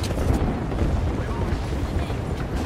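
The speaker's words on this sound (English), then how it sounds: "Huge fucking nade on them." Grenade explosion in a battle royale video game scrim, a dense, noisy blast rumbling continuously for a few seconds at moderate level, with no voices over it.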